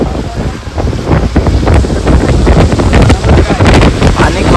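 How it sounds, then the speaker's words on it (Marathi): Rough sea churning under gusting wind in rain, a loud, steady roar of surf and buffeting wind noise across the microphone with no clear pauses throughout. "आणि खवळलाय समुद्र."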